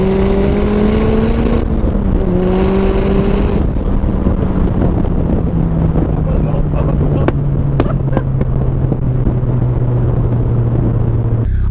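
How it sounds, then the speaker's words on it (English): The RX-5, a converted Mazda MX-5, revs hard under acceleration from inside the cabin, its droning engine note climbing and dropping through gear changes, loud and sustained, with road and wind rumble underneath. "letting this engine scream going up through the revs and the miles per hour"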